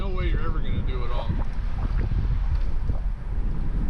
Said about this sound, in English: And it's windy, man.